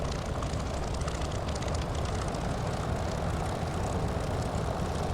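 Curtiss P-40F Warhawk engine in a flight sim video game, a steady loud propeller-engine drone as throttle is added on landing approach, continuous and close with no talk.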